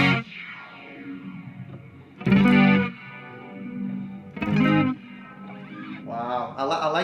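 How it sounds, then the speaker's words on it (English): An electric guitar runs through the Tera Echo effect of a Boss GT-1000 multi-effects unit, giving loud strummed chords that swell into a shimmering, smeared echo tail, with a chattering voice in the pauses. "You can hear that Terra echo pedal very prominently."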